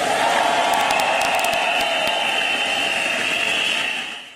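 A large audience at the Reliance annual general meeting erupts in loud, sustained applause and cheering for the Jio phone launch, a broad roar of clapping with whoops that holds steady and then fades out at the end.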